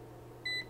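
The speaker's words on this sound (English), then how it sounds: "Yes, it's going to beep like crazy." One brief electronic beep from a clamp meter, close and moderately loud over a steady low mains hum, with no talk.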